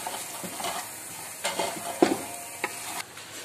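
Sautéed ingredients with added powder stirred in a pan for Ilocano mashkol chicken, a spoon scraping and knocking against the metal in irregular strokes over a faint sizzle, close and fairly quiet.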